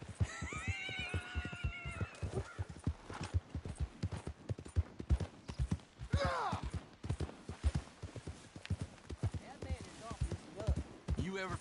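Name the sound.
horse hooves from video game Red Dead Redemption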